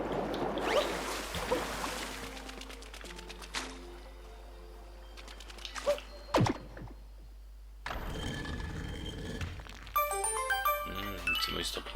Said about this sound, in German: Oh, da jetzt nochmal ein Reißverschluss.